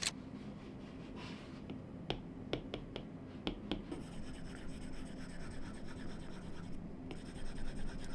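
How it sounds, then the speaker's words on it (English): Apple Pencil drawing on an M4 iPad Pro fitted with a Paperlike matte screen protector, giving a soft papery scratching with sharp tapping clicks as the tip strikes the glass, close and fairly quiet, no voices. "Paperlike screen protectors make writing and drawing on your iPad feel like real paper"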